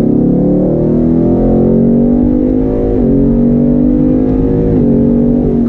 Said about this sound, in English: I love the sound of that 5-liter underneath the hood.